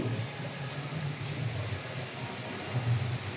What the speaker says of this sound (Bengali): দারুণ সুন্দর বৃষ্টি।